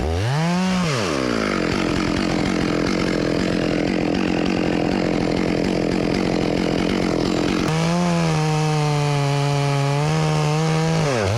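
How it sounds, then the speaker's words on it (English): Chainsaw notching a huge tree during felling: a loud, close, continuous engine whine under load, revving up at the start and surging again near the end, with no talk. "I'm gonna notch this side out so my saw can get in there that much deeper"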